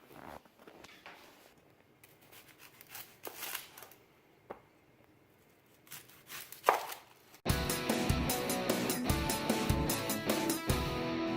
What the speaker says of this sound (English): Now we're going to cut up our onion.